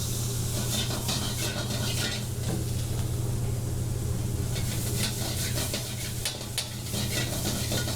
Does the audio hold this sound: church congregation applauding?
no